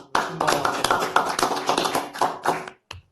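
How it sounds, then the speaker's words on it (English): Hand clapping rings out at a board of supervisors regular meeting, a run of close, sharp claps with uneven bursts, then a brief pause and one final clap. "Slow clapping."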